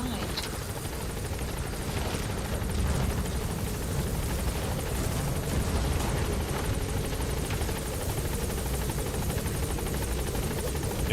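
The support helicopter in Metal Gear Solid V, Pequod, hovers at the landing zone with a loud, continuous rotor thrum and turbine roar. Faint voices sit underneath it.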